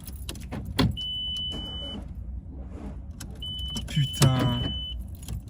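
Someone tries to start a car with a jump booster, producing clunks, a steady electronic beep tone and a brief strained cranking burst that does not catch. A voice gives a short exclamation.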